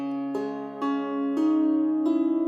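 Wire-strung harp with brass strings plucked with the fingertips rather than nails, giving softer, muted attacks; four notes ring on and blend into a sustained, resonant tone, heard up close with no talking.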